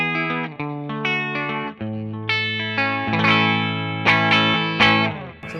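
A Telecaster played clean on the bridge pickup through a Laney amp: a short run of ringing single notes and chords, each plucked and sustained, played alone at moderate loudness.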